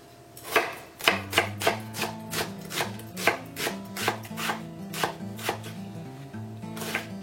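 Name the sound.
chopping four large onions finely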